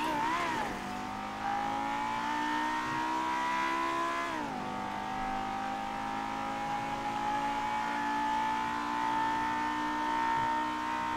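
A video game car engine roars at high speed, nearing 260 without tuning, its steady high drone climbing in pitch, dipping briefly around a shift, then rising again, loud and continuous with no talk.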